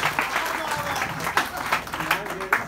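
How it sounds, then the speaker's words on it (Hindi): A crowd at a women's empowerment event breaks into lively, uneven clapping, with bursts of applause rising and falling while voices carry faintly beneath. "जोरदार तालियां बजाओ खुद के लिए"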